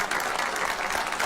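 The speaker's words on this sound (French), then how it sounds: "Maximum d'applaudissements pour Mémé Ono." Audience applause for a guest at a live show, a brief dense burst of crowd clapping at steady loudness, no voices over it.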